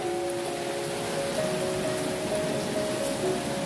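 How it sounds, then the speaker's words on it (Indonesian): Heavy rain pours steadily over a flood area at a palm oil estate, a dense, even hiss with no breaks, and a faint tonal hum runs beneath it. "Hujan deras ini,"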